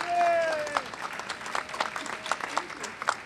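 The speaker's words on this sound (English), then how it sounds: "I think you should give her a big round of applause" An audience at a Hiroshima remembrance gathering claps for Sheila, a Cambridge peace movement leader, scattered and moderate applause in a room with some voices mixed in.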